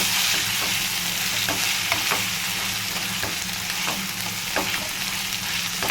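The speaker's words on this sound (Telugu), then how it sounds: "చికెన్ అనేది వేసేస్తున్నాం." Chicken liver hitting a frying pan with cooked ginger paste, a loud, even sizzle with a few sharp crackles, close and steady throughout with no talking.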